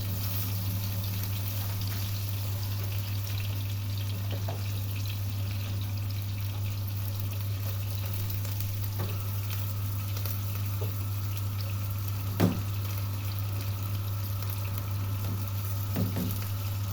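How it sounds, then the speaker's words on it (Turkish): Steady hiss and crackle of fish frying in a pan, continuous throughout, with an occasional clink of a utensil. "ben de balık kızartıyorum arkadaşlar. Bu akşam menümüzde balık var. Balık kızartıyoruz."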